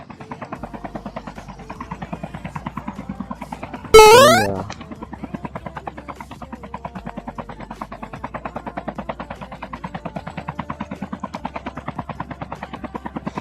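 Aircraft engine drone from a Call of Duty Mobile battle royale match, a steady pulsing rotor-like hum running throughout, with a sharp loud burst near the start that sweeps and fades.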